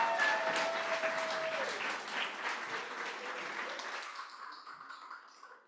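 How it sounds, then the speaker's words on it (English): An audience at a graduate research presentation evening applauds the presenters, a dense wash of clapping that starts full and gradually thins and fades out, with brief voices. "please give all of the presenters a huge round of applause"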